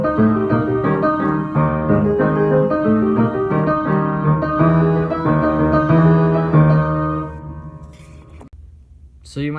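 Piano playing the opening lines of the Maple Leaf Rag, a lively syncopated ragtime passage with full chords and a bouncing bass, close and loud, ending on a final sustained chord.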